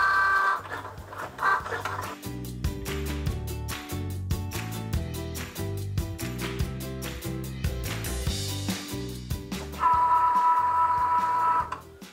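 Cricut Joy cutting machine cutting a foil transfer sheet, a near, loud run of stepper-motor buzzes and whirs in rapid stuttering pulses with changing pitches, punctuated by brief tonal whines.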